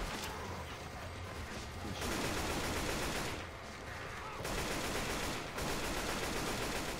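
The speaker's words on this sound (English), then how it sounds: "You're shooting me again." Rapid bursts of gunfire from the game Left 4 Dead 2 fill the clip, dense and loud, in long sustained volleys broken by brief gaps.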